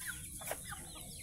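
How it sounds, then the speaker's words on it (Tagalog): A few short chicken clucks close by, quick and choppy over a faint background hiss. "Manok ni Poldo"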